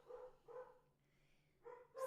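Several dogs bark at visiting company in a home, three short bursts of barking spaced across the moment, fairly near, with no talk over them.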